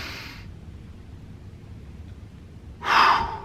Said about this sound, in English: Try to do about 3 to 5 minutes of deep breathing like that